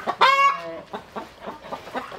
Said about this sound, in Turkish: Kaç tane var abla tavuğunuz, horozunuz?